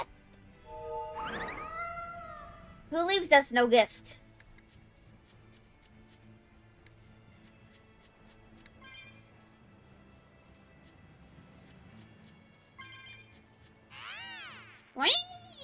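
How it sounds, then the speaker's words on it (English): A cat meows a few times in the video game Tales of Bersia, short mewing calls spread across otherwise quiet game ambience, with a brief spoken line in between. "Found the cat."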